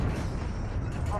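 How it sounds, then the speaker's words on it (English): Cruise missile explosion in the Modern Warfare beta video game, a dense, sustained low-heavy rumble and roar filling the whole moment at steady loudness. "Enemy cruise missile. Take cover."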